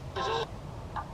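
A sandpiper in a cemetery gives a short, sharp nasal call, then a fainter second note a moment later, over a low background hum.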